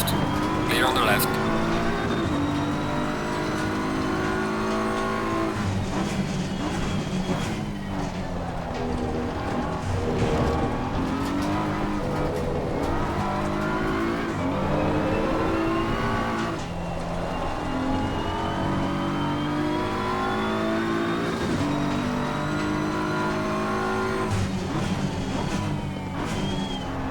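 A 2022 BMW M4 race car engine in the Assetto Corsa Competizione racing game at Zolder, on a wet track, revs and shifts through gears in a continuous rising and falling drone, while someone talks over it.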